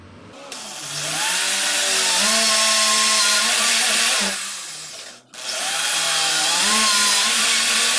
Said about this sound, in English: And then you drill down.